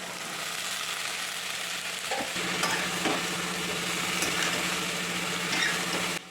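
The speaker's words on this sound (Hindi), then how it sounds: "तो फिर मैंने इसको जीरा और हरी मिर्च से तड़का लगा दिया। सिंपल बस सूखे मसाला डाल के मैं इसे भूनूँगी।" Potatoes and beans frying in a pan with a cumin and green chili tempering, giving a steady close sizzle with light stirring scrapes throughout.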